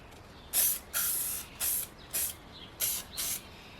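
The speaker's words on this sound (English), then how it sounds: "This is spraying like shit because I dropped the can." A dropped spray paint can sputters out six short, uneven hissing bursts separated by brief pauses, close and loud in an otherwise quiet space.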